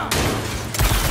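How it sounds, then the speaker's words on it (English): A short, loud burst of massed gunfire in Marvel's Spider-Man 2, a sustained volley of shots that cuts off briefly and then a heavier blast follows. "Opening fire! Fire in volley!"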